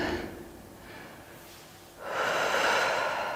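Slow deep inhalation during a back-relaxation and posture exercise, one long close airy breath that swells noticeably louder toward the end, with no speech.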